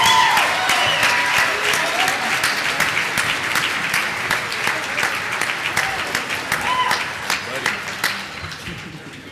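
A graduation dinner audience applauds the top ten percent of the RVU Class of 2013, with steady, loud, dense clapping throughout and crowd voices mixed in.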